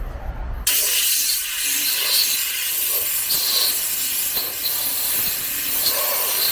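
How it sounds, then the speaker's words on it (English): Sandblasting a part from a Ferrari 308 GTS outdoors: after a brief low rumble, a steady, loud broadband hissing blast runs unbroken for several seconds. "we are going to sandblast."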